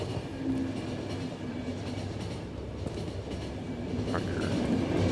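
A train in the video game The Final Station rolls steadily along the tracks with a low rumble and faint clatter, growing slightly louder toward the end; a brief squeal rises.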